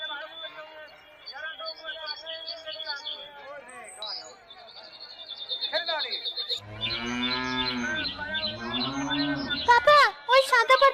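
Cattle and calves moo at a crowded livestock market before a sacrificial festival, several long low calls rising loudly in the second half over background chatter and people talking.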